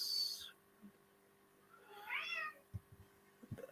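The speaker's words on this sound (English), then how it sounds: "that's my cat you can hear in the background" A single drawn-out cat meow in the middle, fairly faint and in the background, amid quiet room noise and a few soft knocks.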